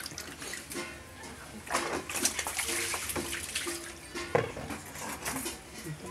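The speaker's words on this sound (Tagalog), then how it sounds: "Halitan natin tubig." Water is poured into a small basin to bathe a pet hamster, with irregular splashing, dribbling and pattering that rises and falls, plus an occasional sharp knock, all close by.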